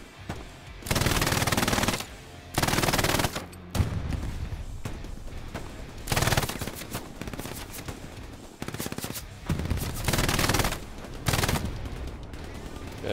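Machine gun fire in the World War II shooter game Hell Let Loose comes in loud, sustained bursts of rapid shots, separated by short pauses and quieter stretches.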